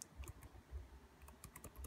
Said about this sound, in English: I hit the right arrow again.